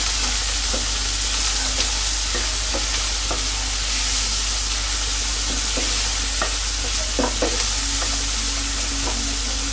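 Chopped onions frying for egg bhurji in a pan, a steady close sizzle with scattered stirring scrapes and clinks throughout.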